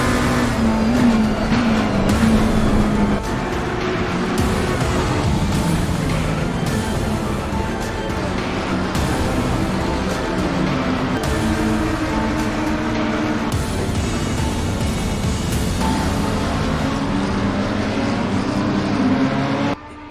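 Race cars roar around the Bathurst circuit in a sim racing game during a six-hour endurance event, several engines droning loudly together with rising and falling revs and gear shifts throughout.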